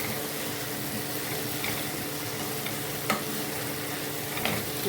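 Potatoes are stirred into a mutton curry in a pan, giving a steady bubbling sizzle with occasional soft clicks of the spoon against the pan.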